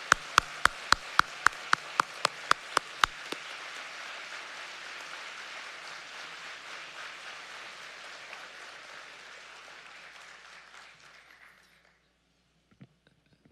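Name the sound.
audience applause for museum volunteers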